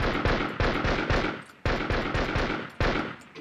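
A modded gun in Minecraft fires in rapid, loud bursts of shots, several volleys in quick succession with short gaps between them.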